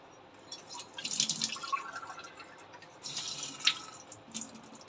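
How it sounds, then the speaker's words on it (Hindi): Water is poured slowly into a cornflour mixture for idli chilli, giving a faint, close trickle with a few soft splashes and drips in a quiet kitchen. "मैं इसमें धीरे धीरे पानी डालूंगी क्योंकि इसमें कॉर्नफ्लावर होने की वजह से ये जम जाता है"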